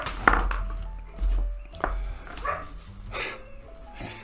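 Several dogs bark in short, scattered bursts at moderate distance, with irregular gaps and some faint background clatter between the barks.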